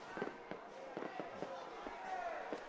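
Fireworks burst during Diwali celebrations near a hockey ground in Johor, Malaysia, as a run of sharp, fairly distant crackling pops, quiet and spaced through the stretch under a faint background hum.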